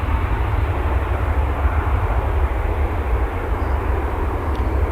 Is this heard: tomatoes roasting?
no